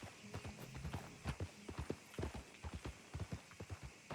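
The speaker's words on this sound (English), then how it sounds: "it's just a man on a horse" Horse hooves clip-clop steadily in Red Dead Redemption 2, a run of close, regular thuds across the whole stretch, with a faint low voice murmuring early on.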